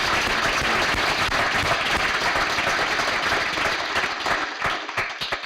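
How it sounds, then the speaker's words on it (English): A conference audience applauds steadily and loudly throughout, a dense wash of clapping from many hands that thins slightly toward the end, with no talking. "I think we owe them all a round of applause and thanks."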